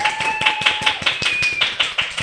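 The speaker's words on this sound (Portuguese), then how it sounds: "Minha gente, uma salva de palmas!" Steady rhythmic clapping at the opening of a Brazilian podcast, a quick even train of sharp claps with a thin whistling tone running over the first half.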